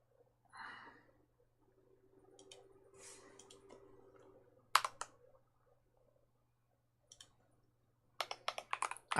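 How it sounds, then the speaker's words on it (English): Sparse clicks and keystrokes on a computer keyboard come in short scattered bursts, ending with a quicker run of typing. There are faint background noises and a steady low hum underneath. "Hit Shift F10 again and type again this command."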